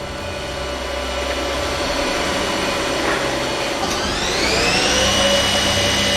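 2012 Haas ST-10T CNC lathe with a 6.5-inch chuck, tailstock and 5,600 spindle hours, its spindle spinning up to 6,000 RPM: a steady whine that rises in pitch and grows louder over a constant machine hum.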